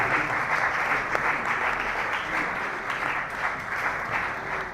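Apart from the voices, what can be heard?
audience applause welcoming a speaker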